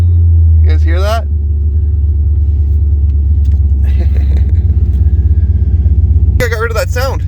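Steady low rumble of a car engine idling after an idle air control adjustment, running evenly and loud throughout, with someone talking briefly at the start and again near the end.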